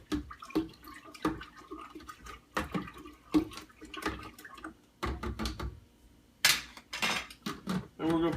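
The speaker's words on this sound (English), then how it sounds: "And we'll give her a quick stir." Yeast is stirred into a homemade malt liquor brew in a container, giving a series of clinking, sloshing strokes in an uneven rhythm, fairly close and clear, with a brief pause before a sharper splash near the end.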